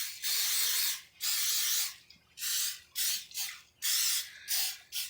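Cooking spray hisses onto a muffin pan in a run of close, loud bursts, long at first and then shorter, with brief pauses between them.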